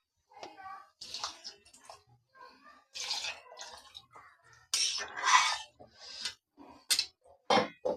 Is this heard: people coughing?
no